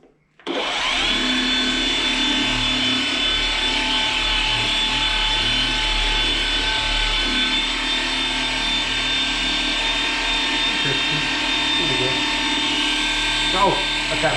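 Machine polisher running steadily at its lowest speed setting, a continuous close whirring drone that starts abruptly and holds an even level throughout.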